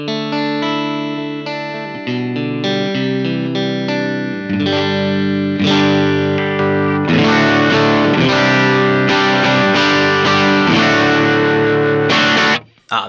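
Electric guitar played through a maxed-out amp with pedals pushing it, ringing distorted chords with thick sustain and chorus-like shimmer, loud and close, cutting off abruptly at the end.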